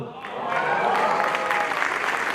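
An audience at a Mahesh and Kiran Dubey celebration event breaks into sustained applause that swells quickly and holds steady and loud, with some voices mixed in beneath the clapping.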